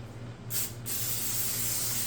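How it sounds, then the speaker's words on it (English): A short hiss of aerosol cooking spray, then a longer continuous spray bursting close by. "And then I'm gonna spray the back."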